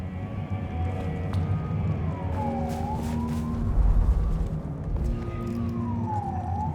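Police sirens wail in the video game Vampire: The Masquerade – Bloodlines 2, their rising and falling sweeps heard at a middle distance over a steady city rumble and traffic noise.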